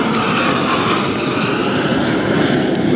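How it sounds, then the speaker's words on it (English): Blue Angels jets, numbers 5 and 6, approaching the flight line at about 400 mph during the Cleveland National Airshow, a loud, steady, broad jet roar filling the whole clip with no talking heard over it. "Blue Angels 5 and 6 are approaching the flight line at 400 miles per hour."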